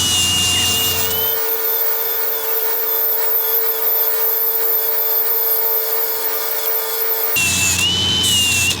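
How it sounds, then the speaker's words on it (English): A power tool cleans up the stud ends on a 35-ton excavator final drive, a steady grinding whir running for about six seconds between louder bursts at the start and end, with no talk. "So I'm just cleaning the end of the studs up now, just so we can get a good fix with the welder."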